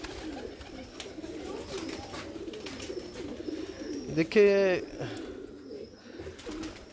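Bater breed pigeons coo close by, with one clear burst of cooing just past the midpoint over a background of softer bird sounds, and someone speaks briefly.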